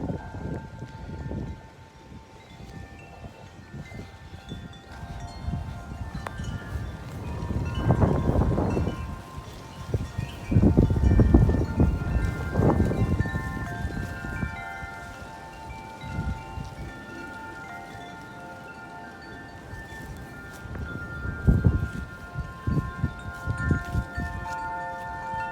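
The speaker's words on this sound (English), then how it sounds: "There's just some crazy winds." Strong winter wind from Winter Storm Elliott on a very cold day, blowing in surging gusts that roar loudest around the middle and again near the end, with a quieter rush between.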